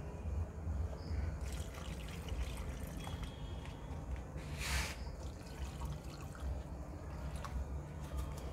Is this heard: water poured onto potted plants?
yes